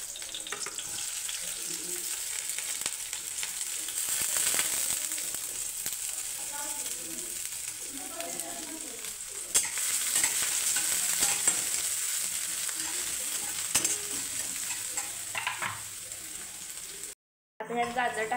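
Garlic and onion fry in a pan with chilies, giving a loud, continuous sizzle that runs almost the whole time and drops out briefly near the end, while someone talks over it.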